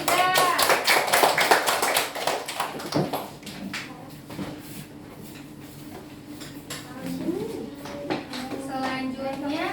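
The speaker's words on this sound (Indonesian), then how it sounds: "Kita beri tepuk tangan untuk kelompok 3." A children's class claps for group 3 in a school religious lesson: a quick burst of rhythmic, patterned clapping at first, then trailing off into scattered taps and children's voices talking.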